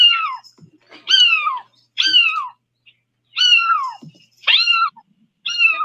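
A nine-month-old cat gives five loud, close, high chirping meows in a bird-like rhythm, each call short and rising-then-falling, separated by brief silences.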